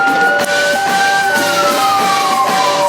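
An ambulance siren wails continuously in Tel Aviv traffic, loud and close, its pitch sweeping slowly up and down over a background of traffic noise.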